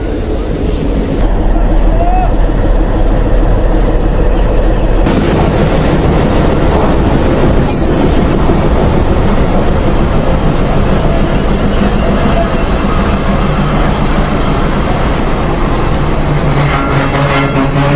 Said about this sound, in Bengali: জগতী রেলওয়ে স্টেশনে একটি ট্রেন প্রবেশ করছে।